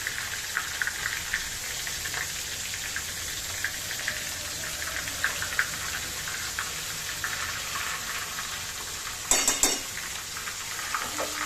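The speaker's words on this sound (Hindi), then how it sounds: "तो ये मैंने करी यहाँ पे 2 चम्मच मैंने लहसुन अदरक मिर्ची का पेस्ट डाल दिया" Garlic, ginger and green chili paste sizzles steadily in a pan of kadhi, a continuous hiss of frying with faint stirring and a brief metallic clink of a spoon near the end.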